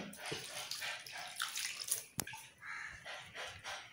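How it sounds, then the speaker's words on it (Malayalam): Running water splashes and trickles close by, a small amount poured into jackfruit aviyal with vegetables, curry leaves and salt, quiet and uneven with a sharp knock midway. "ഒത്തിരി വെള്ളം വേണ്ട, കുറച്ച് വെള്ളം മതി,"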